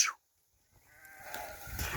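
A sheep, one of a flock of pregnant ewes offered for sale, gives a brief bleat at the very start, then a rising, rustling background of farmyard noise.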